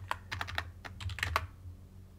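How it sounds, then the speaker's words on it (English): A password typed on a computer keyboard at a Linux sudo prompt, about eight quick close keystrokes in an uneven burst and then stopping, over a low steady hum with no talking. "And you have to type in your password."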